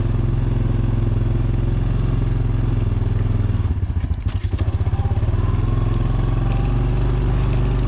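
A four-wheel ATV engine climbs a mountain trail high in the Rocky Mountains, a steady loud mid-pitched drone that briefly bogs and surges through a gear shift midway, close up with no speech.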